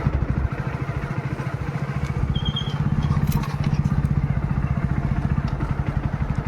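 A motorcycle coasting in third gear with the throttle closed, its engine thumping in a steady, close, even pulse that carries throughout without pause.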